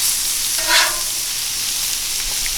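Blackened walleye and crappie fillets searing in hot oil, giving a steady, close hiss of sizzling with a brief louder crackle partway through, and no voices.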